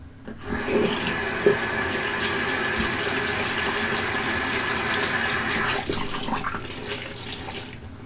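A cold-water tap runs steadily into a basin for a rinse after a shave, a continuous close splashing that holds level for about six seconds before easing slightly toward the end.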